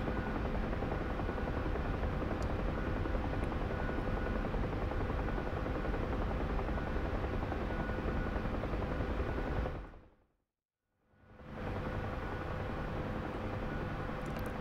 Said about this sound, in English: Okay, the helicopters are cresting the hill now